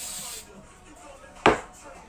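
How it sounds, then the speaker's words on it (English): A short burst of coconut cooking spray hisses into a pan, one quick spritz after a quiet pause. "I just spray my pan."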